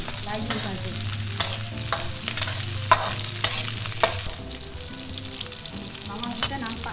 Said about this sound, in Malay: Kita goreng tak layu-layu saja, bukan tak perlu sampai warna kuning, layu saja.